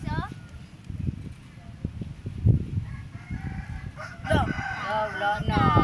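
A chicken in a rural yard in Aborlan, Palawan, clucking and squawking near the end, under steady conversation.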